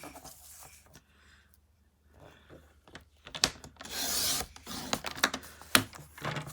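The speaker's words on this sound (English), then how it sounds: "So I'm going to trim this to probably 5" Red paper is trimmed with a paper trimmer: quiet handling and scattered taps, then a loud, rasping slide as the blade cuts, followed by sharp clacks and more shuffling.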